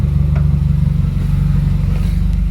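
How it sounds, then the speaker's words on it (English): A Subaru WRX with the FA20DIT turbocharged engine idles roughly with a misfire on cylinder 3, a loud, close, lumpy low rumble with an uneven pulsing beat throughout. "I'm having a huge misfire on cylinder 3"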